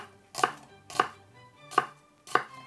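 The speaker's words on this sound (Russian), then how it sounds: "Значит, лучок режем помельче." Knife finely chopping onion on a cutting board for tomato soup, four distinct, evenly spaced close thuds with quiet kitchen ambience between them.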